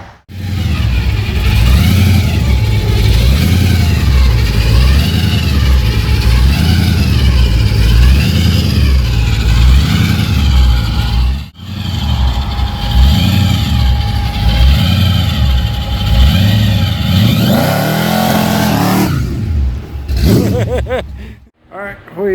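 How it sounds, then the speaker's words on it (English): A four-wheeler engine, its carburetors rejetted from 74 to 71 jets and 6.5 to 4.5 power valves, revs up and down in repeated loud surges close by before falling back toward idle. "working on his wheelers, doing some carb work, trying to get this thing tuned and dialed in for him"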